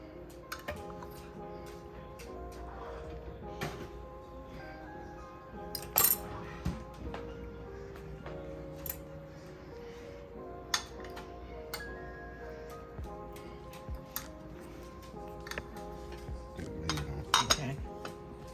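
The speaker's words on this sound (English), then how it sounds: "Stir. And stir." A spoon stirs Velveeta cheese dip in a slow cooker, giving soft scraping with scattered light clinks and taps against the crock, fairly quiet and close, without talk.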